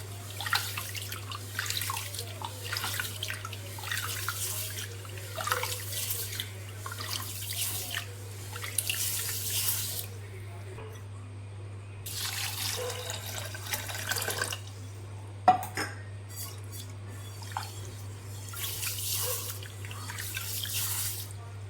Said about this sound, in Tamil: நல்லா கலந்துட்டு ஒரு மூணு வாட்டி நல்லா இதேமாரி கழுவிட்டு ஊற வச்சுக்கலாம்